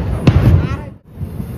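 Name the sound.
firecrackers exploding in the sky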